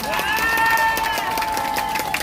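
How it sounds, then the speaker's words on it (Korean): A rally crowd outside a police station in Gwacheon erupts in sustained applause and cheering, a dense continuous roar of clapping and shouts that stays loud throughout. "과천경찰서 수사를 잘했다고 하면 박수 쳐야 됩니다"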